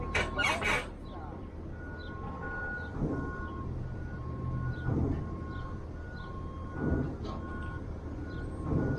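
A forklift's reversing alarm beeps in a regular repeating pattern at a distance, heard outdoors alongside a clucking chicken and some background movement.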